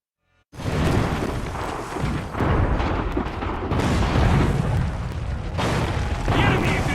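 Enemy gunfire in Assassin's Creed III, a dense, continuous barrage of booming, bursting shots that roars loudly throughout with only brief dips, mixed with shouting voices.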